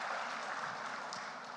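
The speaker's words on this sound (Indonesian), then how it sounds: "Tepuk tangan Ibu Bapak sekalian" Audience applause fills a hall at a national standards award ceremony, a dense, steady clapping that holds at an even level throughout, with no other sound standing out.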